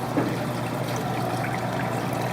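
Water for brine shrimp trickles and pours steadily as it is mixed, a continuous close splashing stream with no talking.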